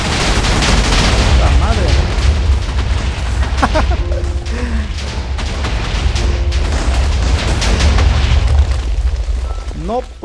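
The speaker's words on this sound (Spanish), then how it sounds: "La super explosión." A loud, sustained rumbling explosion in Minecraft Skyblock with crackling blasts fills the scene while a voice exclaims over it.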